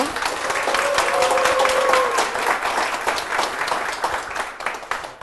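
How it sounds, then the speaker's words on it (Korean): Warm applause from a church congregation welcoming a member forward, steady clapping with crowd murmur and a brief voice early on, gradually thinning toward the end. "박수로 맞아주십시오"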